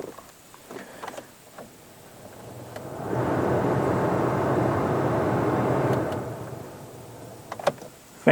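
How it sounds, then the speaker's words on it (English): Ventilation fan of a 2005 Toyota Camry blowing inside the cabin, a steady broadband whoosh rising for about three seconds in the middle between quieter stretches with faint clicks, close and alone without talk. "Fan is blowing."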